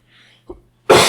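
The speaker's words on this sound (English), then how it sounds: "I had to cough." A single sharp, loud cough bursts out at the end after a short quiet intake of breath.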